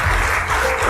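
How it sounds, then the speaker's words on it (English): Audience applause at the NDTV Indian of the Year award ceremony, a short burst of steady, dense clapping filling the hall. "A big round of applause for her."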